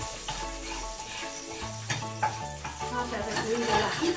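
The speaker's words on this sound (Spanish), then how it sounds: "Vamos a refreír el ajito" Garlic and paprika fry in a pan with a close, bubbling sizzle broken by stirring scrapes and light clatter.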